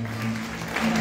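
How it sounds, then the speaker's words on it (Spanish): A wedding crowd at a church claps steadily, a dense wash of applause with a low hum beneath it, rising slightly toward the end. "Démosle un fuerte aplauso"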